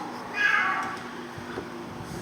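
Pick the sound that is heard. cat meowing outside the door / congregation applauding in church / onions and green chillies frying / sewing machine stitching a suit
cat meowing outside the door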